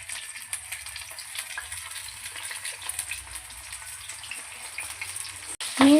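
Fish frying in hot oil in a home kitchen, a continuous close crackling sizzle with bright spitting bursts, ending in a sudden louder clatter.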